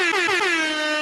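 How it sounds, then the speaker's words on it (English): A single loud blast of an air horn sound effect sounds for about a second, bright and brassy with a slightly falling pitch, heard on its own. "So you know what that means? Air horn."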